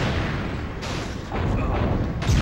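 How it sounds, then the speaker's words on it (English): Tank shells bursting in the Destroy All Humans! video game, a dense, continuous rumble of booms and blasts with sharper impacts near 0.8, 1.3 and 2.3 seconds, loud and close. "Ugh, they're just tank shells."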